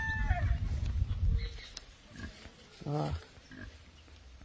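A pig grunts in a backyard, a few rough low grunts standing out near the end, heard amid background noise and a person speaking.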